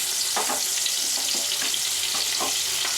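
Butter sizzling in white oil in a biryani pot, a loud continuous crackling hiss with small popping bursts throughout.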